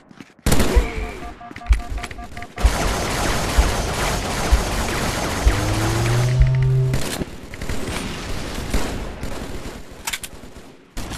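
Shotgun gunfire in the video game Contractors, a loud sustained barrage of sharp blasts and booms with some mechanical clatter, dense and continuous across most of the stretch.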